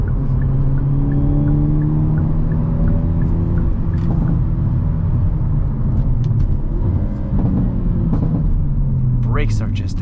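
A 2023 Hyundai Elantra with a six-speed manual gearbox, driven in N mode, gives a steady close engine drone and road rumble that rises and falls with revs as it accelerates, with talk over the top.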